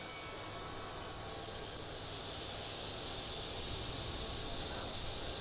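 A saw cuts a long miter in Tasmanian ash or red gum, a loud continuous grinding whine with a rough, hissing edge that holds steady throughout.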